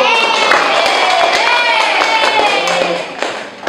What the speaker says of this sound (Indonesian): Silakan tepuk tangan untuk kelompok U.